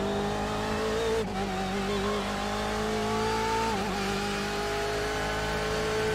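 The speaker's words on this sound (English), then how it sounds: "This car sounds so good." A BMW race car in a NASCAR racing video game, its engine revving loud and continuous with sliding pitch as it shifts through gears, with a faint tire squeal and no talking.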